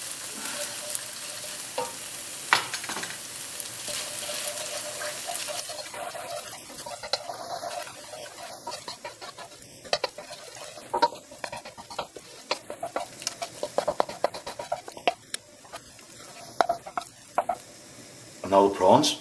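Two cracked eggs fry in a hot pan for nasi goreng, hissing and spitting steadily, with stirring clatter and scattered sharp pops growing busier toward the end, while someone talks now and then.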